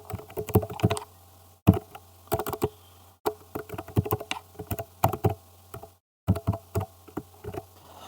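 Typing a new password on a computer keyboard: quick bursts of crisp, close key clicks in uneven clusters, separated by short pauses, with no talking.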